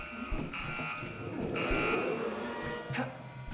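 An alarm blares in the horror video game The Outlast Trials, a steady buzzing tone held throughout, with faint game noises and a little talk underneath.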